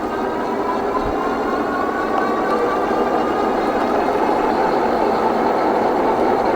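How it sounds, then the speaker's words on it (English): A Cyrusher Ovia e-bike runs on throttle alone, with its electric motor giving a steady whirring drone and loud continuous wind and road rush throughout. "This is just the throttle now."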